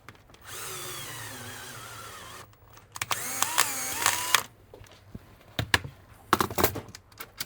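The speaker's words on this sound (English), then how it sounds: "using the screwdriver tighten the latch back" Screwdriver tightens the latch on a Winkhaus uPVC door gearbox: a whirring driver run, then clicks, ratcheting and clattering metal taps close by.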